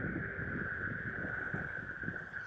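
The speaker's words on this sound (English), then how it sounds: "Oh my God, the wind." Steady wind buffeting a microphone while riding a skateboard with Hussar CNC trucks and new bushings during high-speed carving, a continuous loud rumble and hiss with a faint undertone of wheel roll, no talking.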